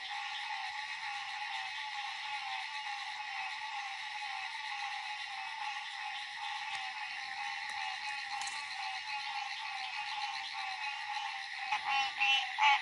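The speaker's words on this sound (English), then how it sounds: "this right here is another PINEWOODS tree frog. It is calling at the moment" A dense, continuous high-pitched trilling chorus of pine woods tree frogs and green frogs, steady and loud throughout, with a few faint knocks near the end.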